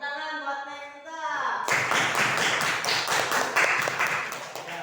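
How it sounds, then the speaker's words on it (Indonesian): A classroom of students claps for a classmate during a maths lesson, starting abruptly after a teacher's spoken line and continuing as a lively, fairly close patter of hand claps. "tepuk tangan buat Neng Nita."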